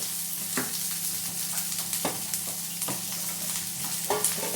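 Garlic chutney ingredients are stirred in a pan over low, steady frying hiss. A few distinct scrapes sound at irregular intervals, with no voices present.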